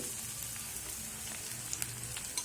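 Chopped capsicum frying with onion on a low flame, making a soft, even sizzle with faint crackles and a few small pops throughout, no voices.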